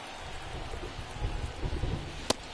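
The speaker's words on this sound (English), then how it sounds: "the field's not going to be able to hold up if the rain gets any worse than this" Rain falling on the field in The Show 23 baseball video game during a Marlins vs Yankees match, a steady soft patter with low rumbling under it and one sharp click near the end.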